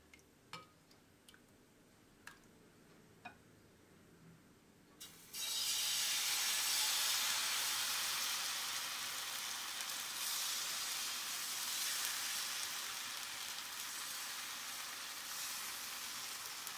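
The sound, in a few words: dosa batter sizzling on a hot tawa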